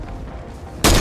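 A single loud, abrupt gunshot from the Fortnite video game bursts in near the end of a short stretch of low, steady background noise.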